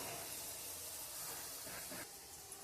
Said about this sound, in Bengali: ভেজে নিচ্ছি। দেখুন হালকা ব্রাউন কালার এসছে, একটু লাল করে ভাজবো।